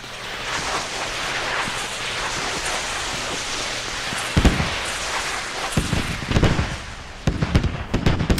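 Artillery strike explosions land in the video game Squad. A steady roar of rumbling noise builds, then several heavy blasts burst out one after another, loud and booming, with sharp crackling impacts closing the barrage.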